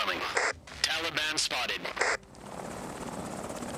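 Helicopters in the Afghanistan '11 video game whir and chop in loud, choppy bursts, then give way to a steady softer rotor hum, with talk in the game over the start.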